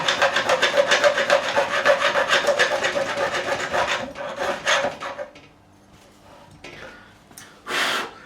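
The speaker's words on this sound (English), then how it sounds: "there's a safe edge on this file, and this one I'm also beveling the edges at the same time" A file works the frets of a Gibson SG Standard during a refret, bevelling the edges in quick, rhythmic rasping strokes. The strokes are close and loud for about five seconds, then a few scattered scrapes follow.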